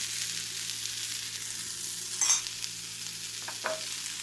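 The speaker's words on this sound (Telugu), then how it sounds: "ఇప్పుడు మనం తీసేసి టమాటోస్ వేసుకుందాం" Tomatoes fry quietly in a pan for paneer curry, a soft steady sizzle with a brief louder clatter midway and a couple of faint clinks near the end.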